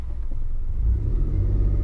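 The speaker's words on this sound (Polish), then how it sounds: "przepuścimy ten samochód, który skręca tutaj w lewo" A car turns left at a street junction in the Bronowice district of Kraków, giving a low, steady engine rumble nearby that swells slightly as it moves through the turn.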